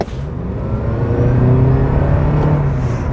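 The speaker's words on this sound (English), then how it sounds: "you can hear that gasoline engine kick in, but it's smoother than I remember with our old 2006 Prius" A Toyota Prius Prime plug-in hybrid accelerates hard as its gasoline engine kicks in, giving a steady, smooth rising hum and whir that grows slightly louder from inside the car.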